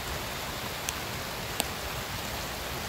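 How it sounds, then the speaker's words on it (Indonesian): Light drizzle falls in a forest, a steady faint patter and hiss of rain with a couple of sharp drop ticks standing out, and no talking. "gerimis lagi nih."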